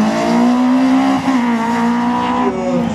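Renault Clio race car on a slalom course at Agon-Coutainville, its engine droning loud and close in a steady high rev with a brief dip as it shifts through the gates.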